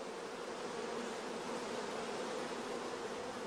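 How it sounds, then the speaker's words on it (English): Orphan honey bees in a queenless starter colony, a loud dense continuous buzzing heard close and steady without pause. "in the queenless starter colony, we can hear the loud buzzing of the orphan bees"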